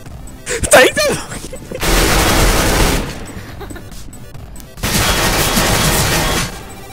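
Bursts of gunfire spraying in Counter-Strike: Global Offensive, two loud sustained volleys of rapid shots separated by a pause, with a brief voice at the start.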